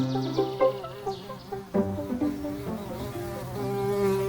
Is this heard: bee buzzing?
yes